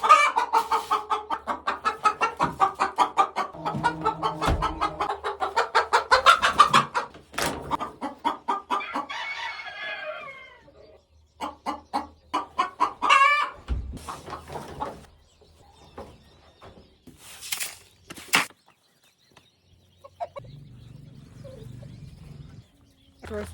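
Backyard chickens cluck and squawk in loud, close bursts, with a rooster-like crow in the mix and quieter stretches between calls.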